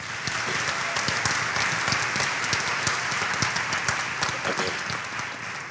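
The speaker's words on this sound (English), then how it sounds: "let's give a big round of applause for Ms. Devin Walsh" An audience applauds at an evening awards show celebration, a dense, steady wash of many hands clapping that holds at an even level for the whole stretch, with no speech over it.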